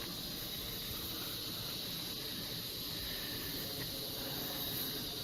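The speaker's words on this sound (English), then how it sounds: "Doing a soft wash around the solar panels." A soft-wash spray from a pressure washing rig cleans a roof around solar panels, giving a steady, even hiss that runs unbroken throughout at a fairly faint level.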